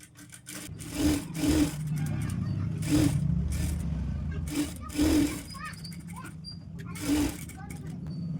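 Sewing machine stitching blouse fabric, a steady mechanical whir running throughout with several louder bumps and thumps, while someone talks over it.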